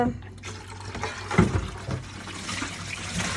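Hot water at about 70 degrees pours from a kettle into a fish tank, a steady close splashing fill with a brief louder surge midway.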